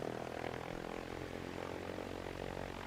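A propeller airplane engine idles with the throttle eased back while the aircraft backs up before departing Dinwiddie Airport, a steady close droning hum with no break.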